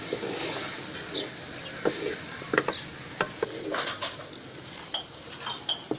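Capsicum stir-fries in a little oil for a spicy achari spaghetti, with a soft steady sizzle broken by scattered metallic clinks and scrapes of a spoon against the pan.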